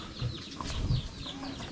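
Backyard domestic chickens at a rural nipa hut surrounded by fruit trees and vegetables cluck softly and continuously, a low mumbling flock sound over a steady outdoor background.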